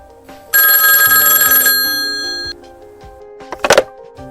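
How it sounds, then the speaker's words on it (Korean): A telephone bell rings in a single loud, bright burst for about a second, then fades away; a short clanging knock follows near the end. "그런데 그때 난데없이 두 신빙이한테서 전화가 왔습니다."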